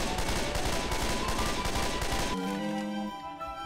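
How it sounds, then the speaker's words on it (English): Rapid automatic gunfire rattles in Left 4 Dead, a loud continuous stream of shots up close that cuts off abruptly, leaving a ringing tonal tail. "I just been shooting through the wall."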